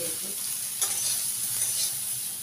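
Soybean protein fries in oil in a pan with a continuous close sizzle and a couple of brief stirring scrapes, no voices present.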